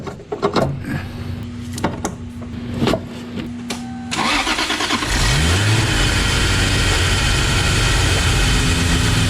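A 1000hp turbo Toyota Supra engine turns over and catches, then runs loud and steady at close range, with a rising rev and a sustained droning roar that builds after the start.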